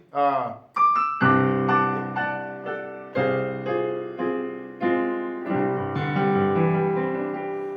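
Piano chords struck one after another, each ringing out and decaying before the next, moving through a minor chord and its inversions.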